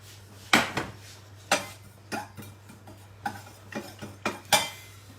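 Dry vermicelli (sevai) stirred and roasted over a low flame in a heavy-bottomed pan, heard as sharp scraping clatters and knocks of the utensil against the pan, about ten uneven strikes close by over a steady background hum.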